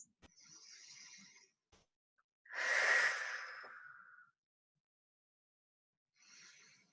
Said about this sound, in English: Child's pose. 2 deep breaths.